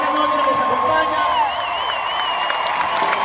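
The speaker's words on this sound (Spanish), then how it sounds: "Voy a pedirles un aplauso para la señora Marisela Sánchez" A large evening crowd at a tribute concert for Chalino Sánchez applauds and cheers for his widow, Marisela Sánchez, with steady clapping and whoops under amplified talk and lingering feedback tones.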